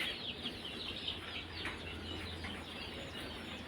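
Chickens cluck faintly at the Kaliabor duck farm in Nagaon, where Khaki Campbell ducks and ducklings are kept, with soft scattered fowl calls over a steady low farmyard hum.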